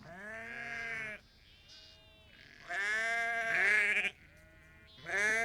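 Sheep bleating in a Xinjiang pastoral setting, several long wavering bleats in a row with short pauses between them, loud and close, with no talk.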